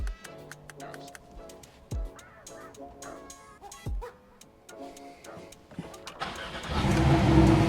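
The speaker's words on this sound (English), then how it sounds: "Car starts right up and runs, no issues." A car with an Igla anti-theft pin code system cranks and fires up after faint ticking and clicks, settling into a steady running engine rumble at the end.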